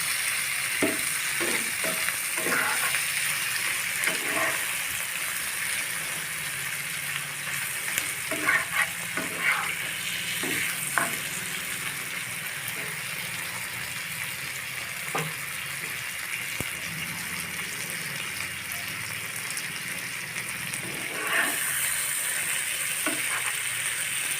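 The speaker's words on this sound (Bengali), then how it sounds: "মাছগুলো দিয়ে আমি ভালোভাবে নেড়ে করে একটু মিশিয়ে নেব" Puti fish (small barbs) frying in oil in a pan, stirred with a spatula: a steady sizzle with irregular scraping and clinking strokes throughout, close and fairly loud, no voices.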